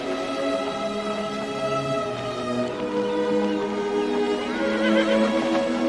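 A horse gives a long, loud, quavering whinny that rises and wavers for several seconds, close by and clear.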